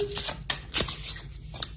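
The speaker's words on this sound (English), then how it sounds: "give the cards a good shuffle" Tarot cards being shuffled by hand, a run of quick papery riffles and soft slaps in irregular bursts, close and fairly quiet, with no talking.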